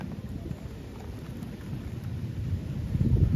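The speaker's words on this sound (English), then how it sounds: "This is about to be a pretty potent storm." Severe thunderstorm with strong winds building outdoors: a steady, dense low roar of wind and rain that swells louder toward the end, with no distinct thunder crack standing out.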